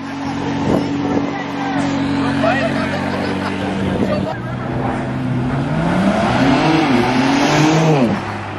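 A McLaren supercar leaving a car show in Columbus, Ohio, its engine droning loud and close, then revving higher as it pulls away, with onlookers' voices in the background.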